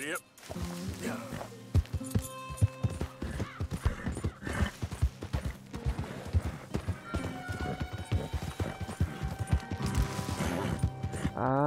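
Horse hooves gallop in the Red Dead Redemption 2 video game as a fast, steady run of close clip-clops, with a whinny and a voice talking over the game sounds.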